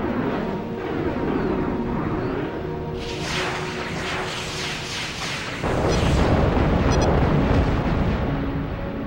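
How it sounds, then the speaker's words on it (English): Enemy fighter aircraft shot down in a flight combat video game, a dense roar of jet engine and gunfire that swells into a louder sustained explosion rumble near the end, with no speech. "Now, use your weapons to shoot down this enemy."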